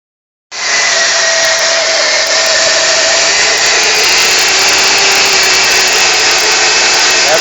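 A 1989 Buick Park Avenue engine with a new pulley and an erratic idle: it fires up abruptly and settles into a loud, steady, hissing roar close by, with no talk.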